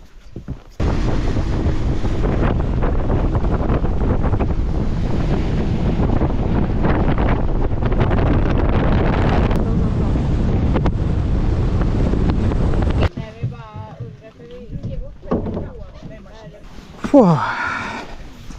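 A motor boat crossing a lake in northern Sweden drones steadily with wind rushing over the microphone for several seconds, then cuts off, leaving wind gusts and voices talking.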